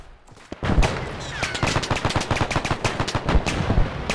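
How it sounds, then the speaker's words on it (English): Rapid bursts of automatic gunfire in the military shooter game Arma 3, set in the Pacific Solomon Islands, crackling loud and close in dense repeated volleys without a break. "My friendly's coming up, I can hear him shooting."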